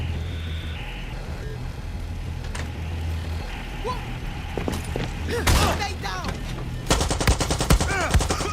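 Gunfire in the video game Far Cry 6 comes as scattered single shots that build into dense, loud bursts of automatic fire near the end, over a rumbling game background with voices speaking.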